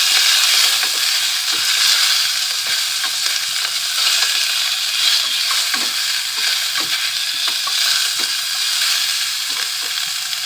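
Pork steaks browning in a very hot, smoking pan give a steady, loud sizzle and crackle throughout, with occasional sharper pops and faint stirring scrapes and no talking.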